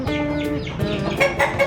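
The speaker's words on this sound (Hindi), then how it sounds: "मुर्गी चीखेगी तो सही" A hen squawks loudly while being handled, giving close, strained, harmonic cries and clucks that repeat in quick bursts with no pauses.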